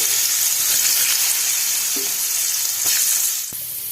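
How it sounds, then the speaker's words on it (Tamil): Mustard seeds, urad dal and chana dal fry in hot oil for varagu rice upma, giving a steady, close crackling sizzle with a few sharp pops near the end. "கடுகு நல்லா பொரிஞ்சு வந்ததுக்கப்புறமா உளுந்து கடலைப்பருப்பு போட்டு நல்லா வறுத்து எடுத்துக்கலாம்"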